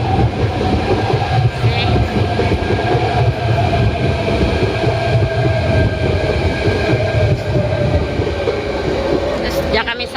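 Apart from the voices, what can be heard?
trains passing on the railway near Sunny Bay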